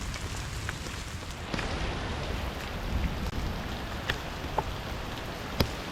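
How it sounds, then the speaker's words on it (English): Rain falls during a ride through a forest with slippery, root-covered trails, a steady hissing patter broken by a few louder nearby drops hitting surfaces, with no talking. "It's raining."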